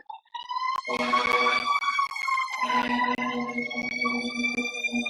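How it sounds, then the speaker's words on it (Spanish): A wailing emergency siren rises and falls, loud and steady, as a vehicle passes nearby. "Está pasando una ambulancia"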